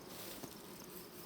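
A honey bee buzzes faintly and steadily near a hive, a soft insect drone that stays low and close throughout with no talk.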